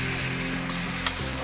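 Food frying in a pan is stirred, giving a steady close sizzle with faint scraping of a utensil, no talk.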